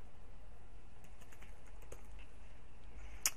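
Typing on a computer keyboard, sparse soft key taps spread over a quiet room hum, with one sharper click near the end.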